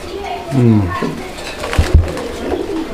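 Pigeons in a fancy pigeon market coo a few times, low and close, while people talk around them and brief knocks sound.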